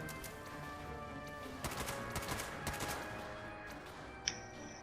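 Faint bursts of rapid gunfire crackle in a role-play video game combat scene, a cluster of quick shots over a couple of seconds against a low background hum.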